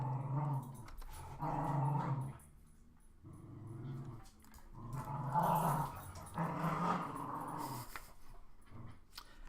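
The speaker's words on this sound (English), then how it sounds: "My dogs are having a nice little tug of war in the back." Dogs growl in long rumbling bursts while playing tug of war, with short whimpering yips between bouts. They sound somewhat distant and fairly quiet, and no one speaks.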